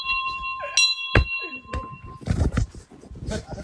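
A bell rung in celebration on a farm gives a few clear ringing tones that sustain and fade over the first two seconds, followed by a sharp knock and scattered background noise.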